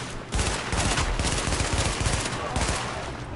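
Burst-fire submachine gun shots from the video game The Division rattle in a loud, continuous dense barrage, close and harsh throughout with no pauses.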